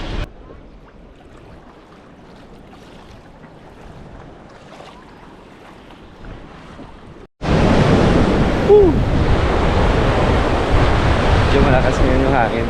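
Strong wind gusts across the shore at Nawiliwili, Hawaii, first faint and distant behind low background noise, then suddenly a loud, close, roaring buffet against the microphone that keeps blowing steadily.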